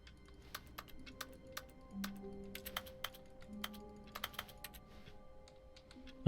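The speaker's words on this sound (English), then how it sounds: "when I arbitrarily click on things, I've got keyboard noises" Keyboard typing in the video game The Stanley Parable, a quiet scatter of sharp single key clicks at irregular intervals over a faint low background hum.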